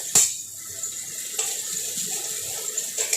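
A little water is poured into a pan of ginger-garlic paste and spices, producing a short hissing splash and bubbling sizzle close by.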